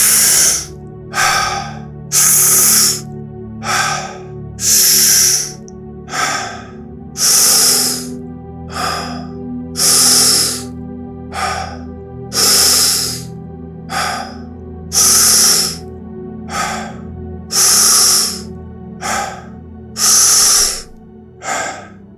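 Rapid, forceful breaths during a breathing exercise, a steady run of about fourteen loud, airy in-and-out bursts roughly every 1.5 seconds, close and clear with no talking.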